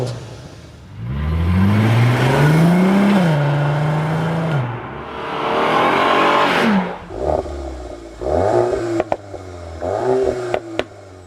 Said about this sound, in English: let's also compare the sound of the R32 model 20 years back.